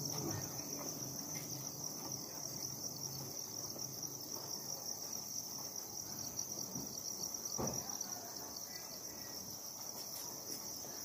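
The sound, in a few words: crickets chirping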